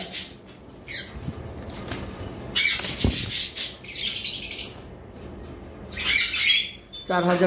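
Pet sun conures and cockatiels squawk in loud, harsh bursts, close by, with shorter chirps in between and a brief burst of wing flapping near the end.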